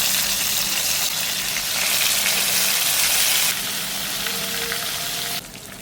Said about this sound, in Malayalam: ഇനി ചിക്കൻ നമുക്ക് വറുത്തെടുക്കാം.